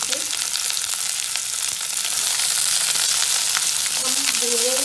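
Onions for a chutney fry in a pan with a loud, continuous sizzle, broken by a few soft scraping stirs, and no voices.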